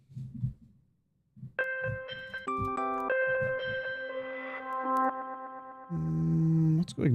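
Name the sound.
bell sound sample in a beat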